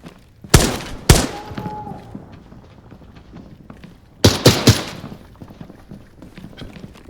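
Gunfire in Arena Breakout Infinite comes as two sharp loud shots, a quiet stretch, then a quick burst of three close shots over a low background rumble.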